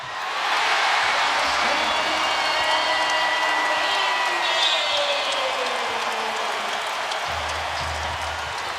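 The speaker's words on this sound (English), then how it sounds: "This crowd has Rondo fever. They are delirious watching him perform." Boston Celtics home crowd roaring in a dense, sustained wall of cheering and applause during a 2011 NBA playoff game against the Miami Heat, steady and loud throughout with faint whoops rising above it.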